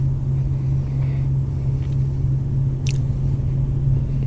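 Mercedes CLS 55 AMG being driven on wet winter roads, its engine giving a steady, deep, continuous rumble with no voices and only a brief faint lighter sound partway through.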